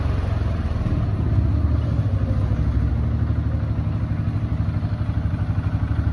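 An engine runs at a steady idle, a close, loud rumbling chug with rapid regular pulses and no voices.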